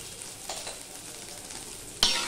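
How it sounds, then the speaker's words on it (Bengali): Carrots, potatoes and beans fry in a pan with a steady soft sizzle and light stirring scrapes, ending in a louder burst near the close; no one speaks. "আমি ঢাকা দিয়ে দিয়ে গাজর, আলু, বিনস এগুলো আমি ভেজে নিয়েছি"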